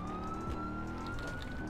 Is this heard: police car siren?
yes